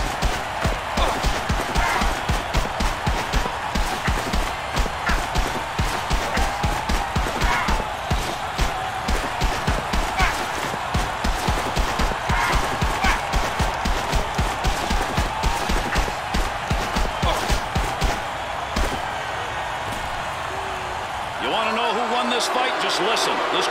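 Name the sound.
unhappy hockey crowd in NHL 08 video game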